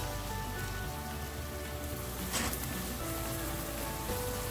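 Shrimp in ginger garlic paste simmering in a pan, a steady bubbling hiss with faint crackles and one brief louder burst partway through, no talking.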